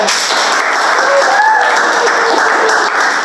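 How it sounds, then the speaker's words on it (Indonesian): Audience applause at an Advertising and Marketing Communication student event, a dense, steady wash of many hands clapping, loud and continuous throughout with no voices standing out. "Guys, tepuk tangannya boleh"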